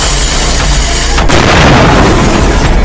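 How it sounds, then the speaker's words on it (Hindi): A firecracker at a birthday celebration bursts with a sudden loud crack, followed by a dense, booming, crackling roar that fills the space for over a second. "पहले मेरा पटाखा तो देखो"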